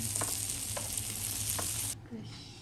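Meat sizzles on a Japanese yakiniku grill in a home setting, giving a soft, steady crackle with a few light taps from utensils before the hiss drops away near the end.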